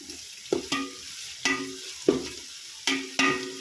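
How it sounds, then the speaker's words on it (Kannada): Onions fry in oil with mint and coriander, a steady sizzle broken by about six sharp scraping stirs of a spatula against the pan at irregular intervals, close and moderately loud, with no voices. "ಇದಿಷ್ಟು ಎಣ್ಣೆಯಲ್ಲಿ ಚೆನ್ನಾಗಿ ಫ್ರೈ ಆಗಬೇಕು ನೋಡಿ ಇದಿಷ್ಟು ಆಲ್ರೆಡಿ ಮುಕ್ಕಾಲು ಭಾಗ ಬೆಂದಿದೆ ಈರುಳ್ಳಿ"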